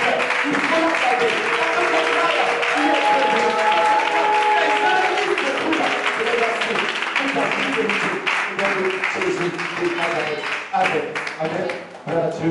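A church congregation applauds to acclaim the King of Kings, sustained dense clapping that fills the space and thins toward the end, with voices mixed in beneath it.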